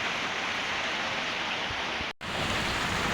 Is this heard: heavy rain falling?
yes